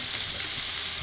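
Mushrooms and dry ingredients fry in a pan over medium heat with butter, making a steady, dense sizzle that stays close and even for the short moment.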